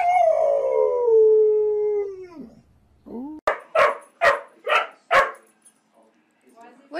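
A dog howls in a long, wavering cry, then breaks into five sharp, evenly spaced barks close by, with a few softer yelps trailing off at the end.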